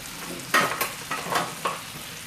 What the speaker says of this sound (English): Octopus to the oil with the curry.